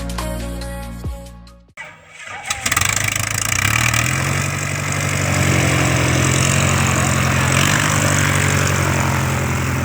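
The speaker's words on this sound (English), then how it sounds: "So here's the video of the pilot taxiing and then departing into the headwind, along with some live audio." A Carbon Cub airplane's engine and propeller while taxiing on a farm, starting with a few coughs and sputters, then settling into a loud, steady, close propeller drone that holds through the rest.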